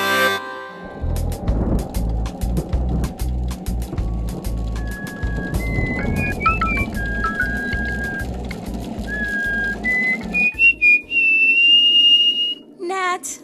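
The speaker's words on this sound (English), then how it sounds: "I'm just whistling to relax a little." A person whistles a wandering, relaxed melody, the clear tones rising and gliding at moderate loudness over a rumbling, busy background that drops away near the end.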